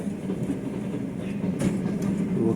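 A long freight train, hauled by a large locomotive, rolls past a station as a steady close rumble with rhythmic wheel clatter and occasional metallic clanks, loud and continuous throughout.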